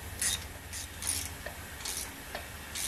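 Rhythmic metallic clicking and scraping as a head stud is threaded down by hand into a 7.3 IDI engine block, repeating in short strokes over a low background hum, with no talking.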